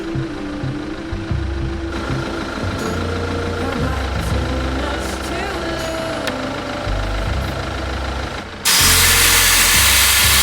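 A vehicle rolls from pavement onto a gravel road, steady engine and tire rumble filling the cabin, with a broad louder crunch of gravel surging near the end.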